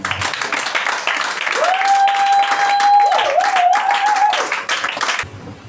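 Congregation at a church service clapping and cheering in praise of Jesus, a dense wash of applause with voices rising over it and sustained sung or shouted tones, then cutting off abruptly near the end.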